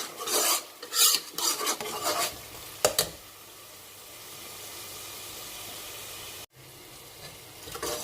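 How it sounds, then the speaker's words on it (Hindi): Chicken do pyaza masala frying in a pan, with a few scraping stirs at the start followed by a steady close sizzle, briefly broken near the end. "और अब इसकी 2-4 मिनट के लिए मैं भुनाई करूँगी, ताकि बिल्कुल ऑयल जो है ऊपर आ जाए"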